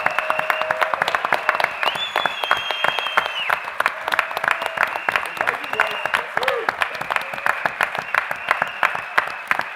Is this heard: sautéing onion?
no